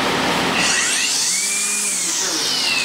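A competitor's 18-volt cordless string trimmer, heard alone and loud, spins up slowly with a whining motor tone that rises in pitch over a couple of seconds.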